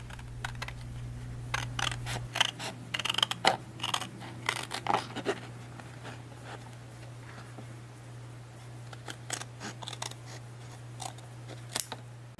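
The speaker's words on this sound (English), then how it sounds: "This one I'm just going to hand cut and it'll be done." Scissors hand-cutting paper for an origami Christmas tree card: clusters of crisp, close snips and clicks come in irregular bursts over a steady low hum.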